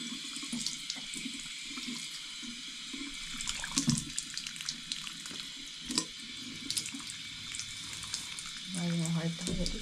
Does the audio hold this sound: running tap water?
yes